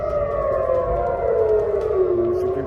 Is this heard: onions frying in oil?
no